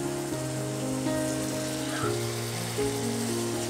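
Dried loitta fish (Bombay duck) stir-fried in a pan, a steady close sizzle with a constant low hum running beneath it and no talking.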